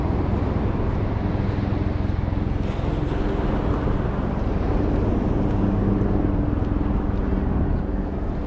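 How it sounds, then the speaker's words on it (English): A helicopter approaches over a beach at low tide in North Jacksonville, Florida, its steady rotor and engine roar filling the scene loudly and continuously with broadband rumble and no talk. "Shot of the helicopter coming."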